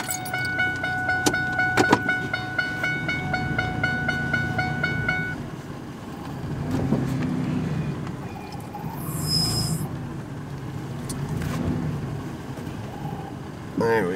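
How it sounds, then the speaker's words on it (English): An old truck driving over bumpy ground, its engine rumbling with uneven jolts and rattles. A tonal beep sounds early and a brief high squeal comes midway, with no one speaking. "The old truck, she's a little bumpy."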